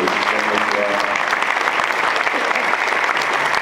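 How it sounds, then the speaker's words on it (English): Banquet audience applauding volunteers, a dense, loud, sustained round of clapping from a large room of people, with faint voices mixed in early on. "Let's give them all a round of applause right here"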